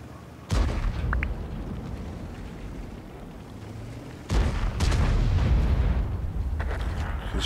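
An enemy tank gun fires in World of Tanks, heard as two heavy booms, each followed by loud rumbling that does not fade between them. There are no voices.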